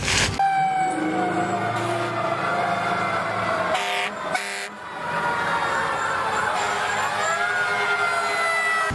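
A red toy fire truck blares its electronic siren, a loud, continuous wailing tone that runs through the whole stretch with a brief dip in the middle, close to the microphone.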